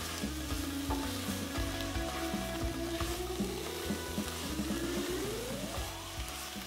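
Sliced mushrooms frying in a one-pot vegan stew pot, a steady close sizzle and crackle with faint stirring, no voices.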